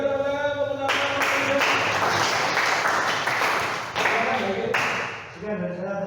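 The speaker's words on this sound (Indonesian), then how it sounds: "Oke, berikan tepuk tangan." Classroom audience applauding at the end of a student group's automotive engineering presentation, a dense burst of clapping that swells, dips briefly and fades, with speech at the edges.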